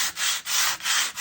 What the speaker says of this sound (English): I'm actually going to be hand sanding this entire thing